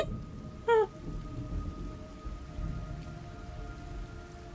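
Steady video game rain hiss in Metal Gear Solid runs through the whole clip with a brief sharp chirping burst early on, a low rumble underneath.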